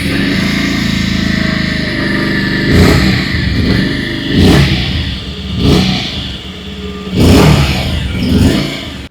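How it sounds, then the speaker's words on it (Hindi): Close Bajaj Pulsar 150 motorcycle exhaust rumbling at idle, punctuated by four sharp throttle blips that rise and fall quickly, spaced a couple of seconds apart. "अभी सुन लेते हैं पल्सर 150 की एग्जॉस्ट नोट।"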